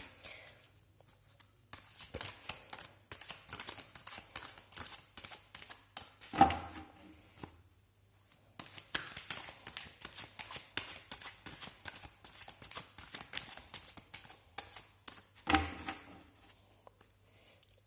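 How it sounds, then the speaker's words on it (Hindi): Tarot cards are shuffled by hand in soft, rapid riffling bursts close to the listener, with short quiet pauses between rounds. "हम अच्छे से शफल कर लेते हैं।"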